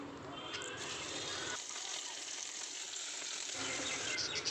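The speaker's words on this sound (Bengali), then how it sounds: "সর্ষের তেলটা গরম হয়ে আসলে ভেন্ডিগুলো দিয়ে ভালো করে একটু লাল লাল করে ভেজে নিয়েছি" Okra frying in hot mustard oil, giving a steady close sizzle and crackle that runs the whole time, with low stirring thumps at the start and end.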